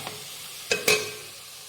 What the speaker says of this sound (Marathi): तुपामध्ये एकदम छान फ्राय करून घ्यायचं आहे.